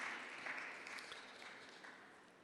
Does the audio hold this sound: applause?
yes